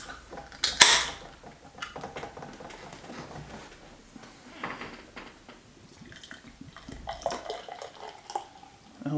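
Higher Plane IPA from New Belgium is poured into a glass, with a sharp clink at the start followed by a soft, gurgling liquid flow and fizzy splashing that swells again near the end.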